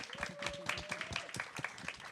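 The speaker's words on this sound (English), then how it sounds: "can we get another round of applause for our amazing partners here today" Brief round of applause from an event audience in downtown San Jose, a close, fairly quiet patter of individual claps in a loose, uneven rhythm, with no talking.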